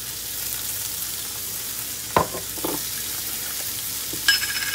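Vegetables sauté in a hot pan with chili powder and cumin, giving a steady close sizzle broken by a few sharp clacks of stirring.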